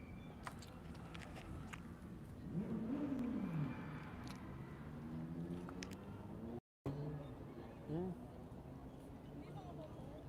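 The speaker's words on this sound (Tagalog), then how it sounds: "May karera yata na motor doon." Motorcycles race in the distance. Faint engine whines rise and fall as each bike passes, repeating several times over a constant outdoor background hum.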